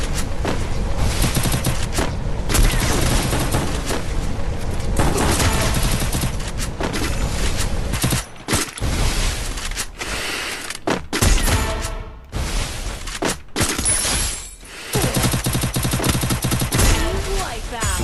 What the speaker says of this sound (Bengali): তোমরা তো দেখতেই পারলাই কুরুল গেমিং কতটা ভয়ঙ্কর গেম প্লে করতে পারে স্নাইপার দিয়ে